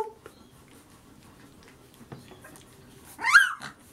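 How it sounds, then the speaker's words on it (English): A young puppy lets out one short, high yip-like bark near the end, after quiet moments with faint rustling and soft background sounds indoors. "He's a little barker."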